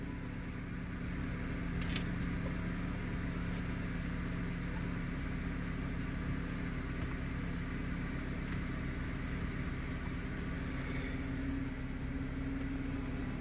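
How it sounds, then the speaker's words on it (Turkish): A Honda Accord (CL7–CL9, K20/K24 engine) idles in park with a low, steady hum, faint and even throughout, with a few light clicks and rustles nearby. "Aracı çalıştırdık. Her vites konumunda bir 15-20 saniye çalıştırmanız yeterli."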